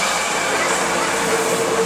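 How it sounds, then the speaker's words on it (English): A continuous loud roar of a train passing very close through a market in Thailand, with a faint high whine running through the steady rushing noise. "Train is coming. Train is passing."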